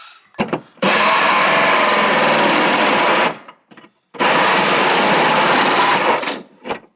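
A Milwaukee cordless power drill whirs in two long, steady bursts with a brief pause between, loud and close, with short stops at the start and end.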